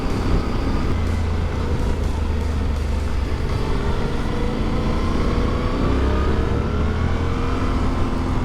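A Suzuki V-Strom DE motorcycle engine drones steadily while riding, with a low, continuous hum and rising and falling pitch as it accelerates, plus wind rush throughout.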